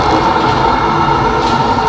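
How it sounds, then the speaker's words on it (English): Steady rumble of a moving train on the rails, a continuous dense roar with a constant mid-range hum and no distinct clacks, close and loud throughout, with no speech. "Train's still not stopping."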